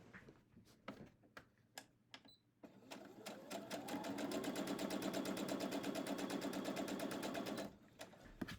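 A sewing machine chain-pieces quilt block pieces, a few soft clicks and taps leading into a sustained, rapid mechanical stitching run that stops near the end, heard up close with no talking.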